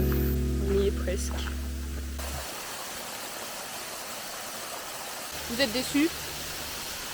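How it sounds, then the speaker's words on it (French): A waterfall on a bush trail gives a steady, broad rushing hiss heard from a distance, with low wind or handling rumble at the start and people briefly talking near the end. "Ça y est, on entend la cascade"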